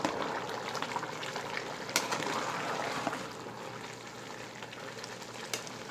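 A pot of mutton pulao rice and water simmers on a low flame with a quiet, steady bubbling. Occasional small pops and crackles rise above the bubbling, and nobody talks.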